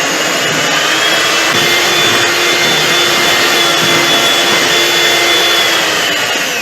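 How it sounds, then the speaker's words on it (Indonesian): An electric mixer beats eggs for a steamed layer cake (lapis legit kukus) at a live baking demo, a loud, steady, close motor whine with a broad buzzing roar that never lets up. "kita mixer telurnya, campuran telurnya"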